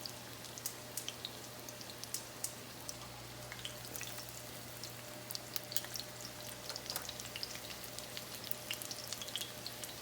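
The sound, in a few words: chicken cutlets frying in a pan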